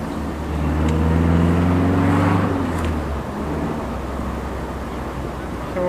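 A Toyota 2T engine with a twin-carburettor setup in a Sprinter project car revs up and settles back, a close rising and falling engine drone over a few seconds.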